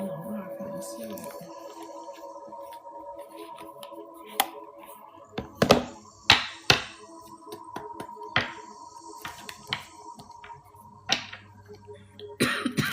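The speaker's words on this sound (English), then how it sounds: "I don't know why I'm coughing" A few short coughs and throat-clearing bursts during a casual home livestream, fairly close and moderately loud, with quiet stretches and small taps and handling noises between them.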